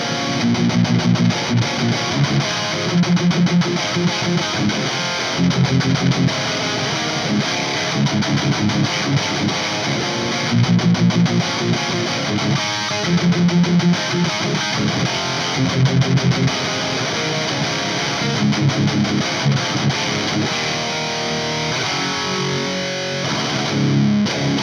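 Electric guitar through the crunch channel of a Peavey 3120 amp, boosted, a dense, gritty distorted tone of chunky riffs and strummed chords, loud and steady throughout with no voices.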